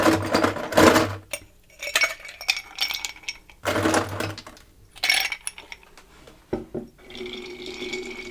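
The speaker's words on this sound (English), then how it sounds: "Now we're going to stir and add our ice." Cocktail being stirred and ice added in a glass: bursts of clinking and rattling ice against glass, a few sharp clinks between them, close up with no talk.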